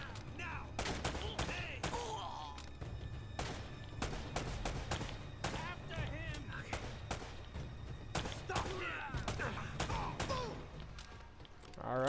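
Bursts of machine gun fire in the video game Uncharted: Drake's Fortune rattle continuously at close range, mixed with thuds and impacts, while a player talks over the shooting.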